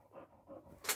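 Odin, a dog at a training session, pants softly in three quick rhythmic breaths close by, ending in a sharp brief hiss-like noise.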